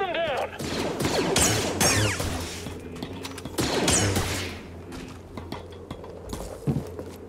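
Enemy troopers fire blasters in Star Wars Jedi: Fallen Order: a stretch of loud, rapid zapping shots mixed with clanks and impacts, and voices shout through the firefight.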